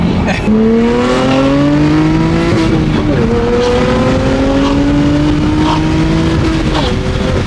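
A BMW M3 engine revs hard while the tires spin, rising in repeated loud climbs through gears with brief drops between, the rasp of tire slip running underneath, all loud and close.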